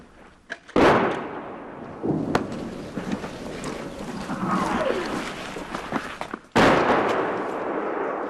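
Artillery shells landing and exploding near a front line in Ukraine, two heavy booming blasts that crack out loud and close with long rumbling tails, and a faint whistle between them.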